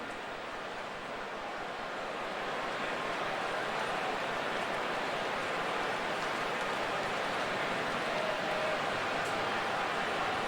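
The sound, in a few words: light rain sprinkles at Wrigley Field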